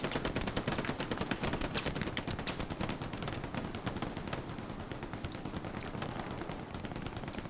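Dense, continuous gunfire from a firefight in the shooter game Hell Let Loose: rapid overlapping rifle and machine-gun shots at steady loudness, with no talking.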